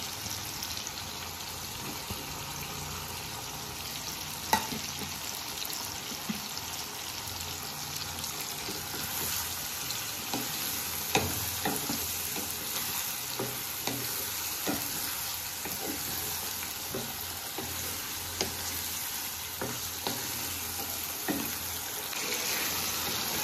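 Tomato and whole green chillies frying in oil in a pan for a tangra fish curry, giving a steady loud sizzle throughout with scattered light taps and scrapes from stirring.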